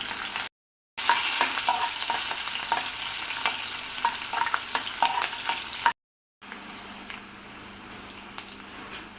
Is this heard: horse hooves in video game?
no